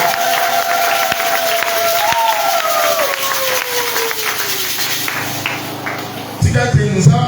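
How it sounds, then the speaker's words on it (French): A church congregation claps and shouts with joy: a loud, dense wash of crowd noise with a long sliding cry over it, swelling into a louder burst of cheering near the end. "Tu pousses le cri de joie"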